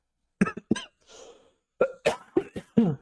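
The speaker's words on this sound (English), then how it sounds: "Cough break." Close, sharp coughs: two quick ones, a brief rough exhale, then a tight run of four more coughs in quick succession.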